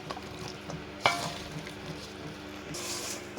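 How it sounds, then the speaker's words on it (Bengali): Cut potatoes and small fish sizzle steadily in a pan of hot oil, a soft continuous crackle with one sharper clatter near the start and scraping stirring sounds, no talking. "এখন ওর মধ্যে দিয়ে দিচ্ছি কেটে রাখা আলু"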